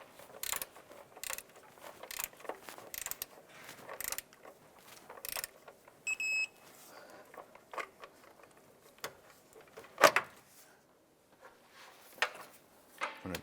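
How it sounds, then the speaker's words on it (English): A torque wrench ratcheting as a horizontal transmission mount bolt is tightened to 40 foot-pounds on a 2001-2005 Honda Civic: a series of sharp, close clicks at an irregular pace, with one louder click near the end. "I'm going to go ahead and torque the horizontal bolt to 40 foot-pounds."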